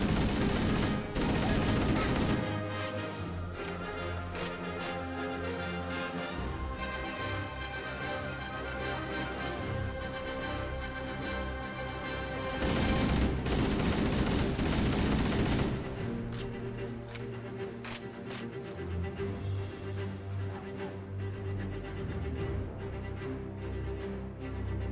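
Bursts of rapid automatic gunfire from a weapon in Halo: Combat Evolved, dense and loud, layered over game music and effects, pausing briefly before firing again.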